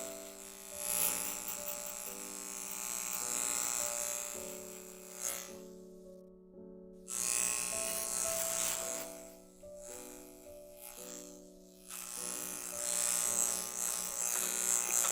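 Electric hair clippers buzz steadily throughout a fade haircut, running close and continuous with brief gaps and shifts in pitch as the blade passes repeatedly over the hair.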